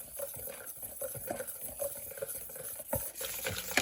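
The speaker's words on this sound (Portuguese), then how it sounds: "Aí aqui eu misturo, ó, o fouet." A wire whisk stirs a lemon mixture made with juice and zest in a bowl, producing a rapid, irregular wet clatter and swish that runs steadily throughout, close by and moderately quiet.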